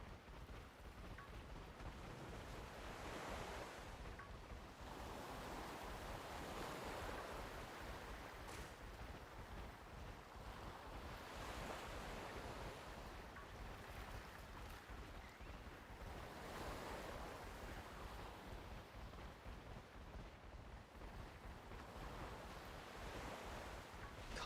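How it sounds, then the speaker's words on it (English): Ocean waves and wind from Pokemon Scarlet roll in a gentle, slowly swelling wash of surf, soft and continuous with no music or voices over it. "You get the sounds of wind and the ocean."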